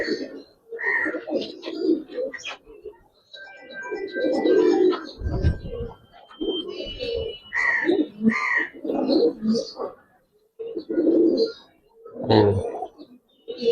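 Small Giribaz pigeons of an old local breed coo in repeated low, throaty bursts close by, with short pauses between calls and no talking.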